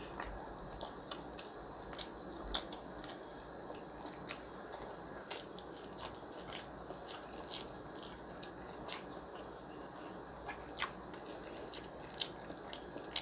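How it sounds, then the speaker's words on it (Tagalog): Close, quiet chewing of spicy braised pork belly with crisp bites and wet crunches in an irregular rhythm, no talking. "Mabilis yung nguya ko"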